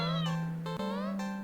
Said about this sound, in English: the cat meowing at you.